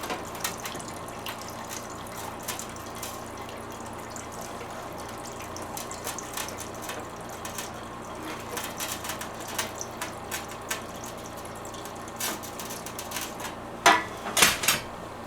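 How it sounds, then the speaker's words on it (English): Old, oil-colored gasoline drains from a Massey Ferguson lawn tractor into a pan, a steady trickle and patter of liquid with scattered drips and a few louder splashes near the end. "We have oil colored gas still going into the pan there"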